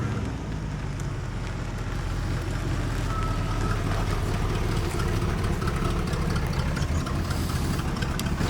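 An old car with a pending EGR delete idles roughly in a shop, a steady low engine rumble that holds constant throughout, close and moderately loud, with no talking.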